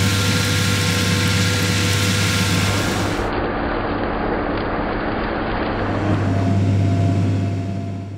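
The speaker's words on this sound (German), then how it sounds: "Hier können die Fendlen 26 Vario ihre Stärken voll ausspielen." A Fendt 1050 Vario tractor spreads biogas slurry across a large, straight field, its heavy engine humming steadily and loudly with a constant low drone throughout.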